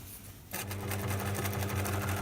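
A sewing machine stitching a wrap skirt's waistband, starting abruptly after a quiet moment and then running at a fast, even rhythmic whir of the needle, close and clear with no speech.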